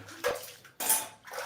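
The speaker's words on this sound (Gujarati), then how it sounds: "જો વાસણ ઉચકે છે" Metal vessels being lifted and handled, two short clanking, scraping bursts close by with a brief lull between them.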